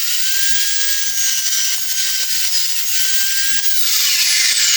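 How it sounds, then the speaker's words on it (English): Power tool grinding a bevel onto a cut piece of steel during a stick-welded drill press build, a loud steady high-pitched whine running continuously, rising in pitch near the end with no talk. "So we're going to cut that off there and then grind that bevel in."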